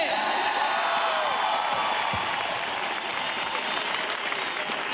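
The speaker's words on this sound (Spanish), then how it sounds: "un aplauso para los grandes Estopa" Sustained applause from a concert crowd for the band Estopa, dense clapping at steady volume throughout with a few whoops and faint voices mixed in.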